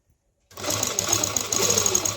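A simple domestic sewing machine runs steadily while stitching dori piping onto fabric with a single foot, giving a continuous fast whirring hum that starts abruptly after a short silence.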